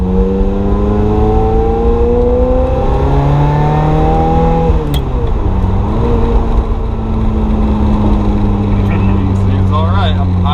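A Ferrari F355 driven for the first time after sitting abandoned for years, its engine a loud, steady close drone that rises and falls in pitch as the car shifts and accelerates, with no one speaking.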